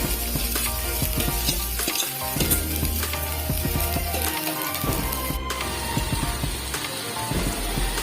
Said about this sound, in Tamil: அரிஞ்சு வச்சிருக்க ஒரு பச்சை மிளகாய், வெங்காயம், கடலைப்பருப்பு இதெல்லாம் நல்லா வதங்கட்டும்